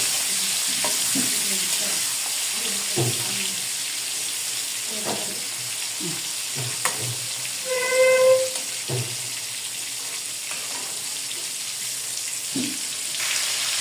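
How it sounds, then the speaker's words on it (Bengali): Shrimp sizzle and fry in hot oil in a home kitchen, a steady crackling hiss underneath occasional clinks of a spatula against the pan and a brief metallic ring. "চিংড়ি মাছগুলো ভালো করে আমি ফ্রাই করে নিতেছি।"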